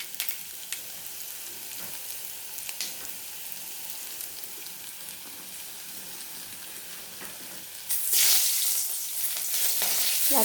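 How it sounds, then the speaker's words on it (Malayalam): Mustard seeds crackle in hot oil with curry leaves and dried red chilies for a beetroot pachadi tempering, a soft steady spatter that bursts into a much louder hiss near the end. "കറിവേപ്പിലയും വറ്റൽമുളകും ചേർത്ത് ഇനി നന്നായിട്ട് കടുക് വറുത്തിട്ട് നമ്മൾ പച്ചടിയിലേക്ക് ഒഴിക്കും"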